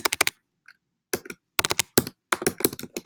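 Bursts of rapid computer keyboard typing, clicky and close, with brief pauses between flurries; no talking.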